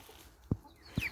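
A naked neck meat hen kept for breeding gives two short, low clucks about half a second apart, close by and otherwise quiet.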